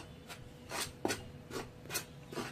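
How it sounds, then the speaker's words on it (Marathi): A spoon mixes a flour batter in a bowl with soft, rhythmic scraping strokes, about five evenly spaced swishes, close and quiet. "असं चमच्याने मिक्स करून घ्यायचंय।"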